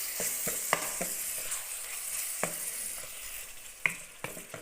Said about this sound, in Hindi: थोड़ा सा भून के टमाटरों को फिर मैं इसको दम पे लगाऊंगा।